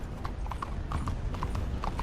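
Horse hooves in Red Dead Redemption 2, a steady clip-clop of a walking mount with evenly spaced light knocks, close and moderately loud over faint game ambience.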